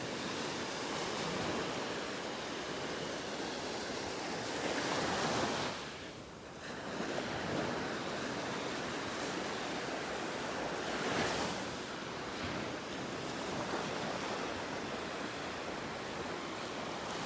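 Ocean surf washes steadily on a beach in North Naples, Florida, a broad, continuous roar with gentle swells and a few soft lulls, mixed with some wind rumble on the microphone and no talking.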